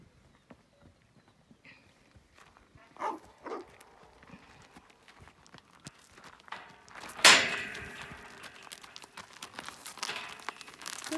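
Horses on a hillside farm moving about, with scattered soft hoof clops and rustling that build toward a sharp thud and a busier stretch of steps and scuffs near the end, fairly close.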